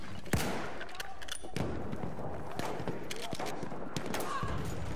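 Gunfire in Battlefield 1, a scatter of sharp distant and near shots and short bursts cracking across a battlefield, with a voice talking briefly amid the shooting.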